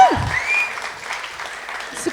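Short burst of crowd cheering and applause for a competitor at a contest, a loud swell at the start settling into a steady, fairly close roar.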